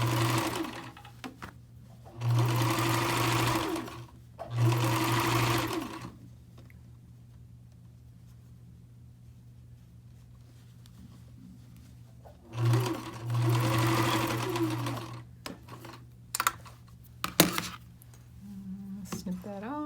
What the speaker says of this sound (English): put it back on the machine, and I'm going to go to a straight stitch and stitch around that bottom opening, just to keep the two layers together